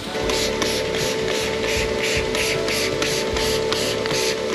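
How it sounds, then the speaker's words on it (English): A disinfectant wash sprays onto a cow's hoof in a series of short rhythmic hissing squirts about every third of a second, close and steady over a faint background hum. "Now it's time to wash this hoof off with some Mr. Muscle hoof cleaner."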